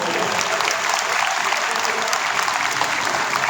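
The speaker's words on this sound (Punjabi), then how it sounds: "ਹੁਣ ਜ਼ੋਰਦਾਰ ਤਾੜੀ" Steady, dense applause from a large audience at a Teeyan festival celebration, loud and continuous throughout with no pauses.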